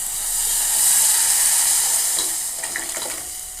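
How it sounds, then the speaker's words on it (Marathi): Tamarind water is poured into hot oil in a home kitchen, bursting into a loud, steady sizzling hiss that holds for a few seconds and then softens, with scattered spits and crackles as it settles. "इथं चिंचाचं पाणी आहे हे चिंचाचं पाणी तेलामध्ये टाकून घेणार आहे"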